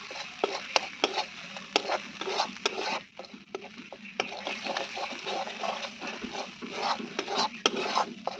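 Poppy seed paste with tomato and green chilli paste is fried in oil in a Bengali home kitchen, giving a steady close sizzle broken by frequent sharp scrapes and clinks of a spatula stirring against the pan.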